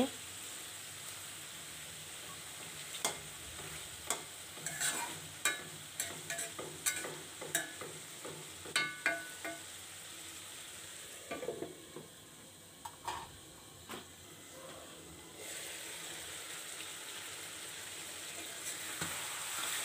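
Meat cooked down with spices in oil for kosha sizzles quietly throughout, with a run of sharp spatula clinks and scrapes against the pot in the middle, fairly faint and without talk.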